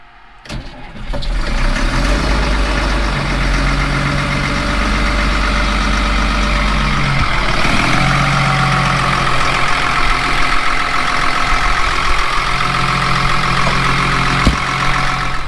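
A diesel truck with a grid heater cranks and fires, then settles into a loud, steady idle with a deep rumble, heard close and alone.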